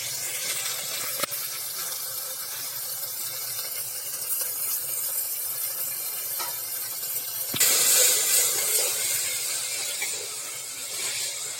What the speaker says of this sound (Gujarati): એટલે આપણે જે મેથી સરસ મજાની તાજી છે તે ઉમેરી દઈશું મિત્રો